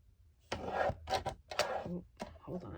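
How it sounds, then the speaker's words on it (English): Paper edges being trimmed for a handmade shaker tag: several close, rasping strokes of cutting in short bursts separated by brief pauses, moderately loud with no talk over them. "I'm going to get this edge trimmed and this edge trimmed."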